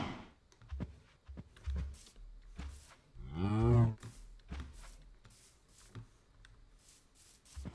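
Minecraft cows moo in the video game, one long wavering moo in the middle among scattered short clicks and taps, with no voices.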